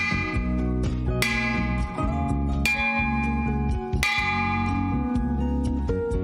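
A bell is banged four times at a staff meeting in a studio. Each loud, clanging strike lets its ringing overtones hang and overlap before the next hit, with no talking.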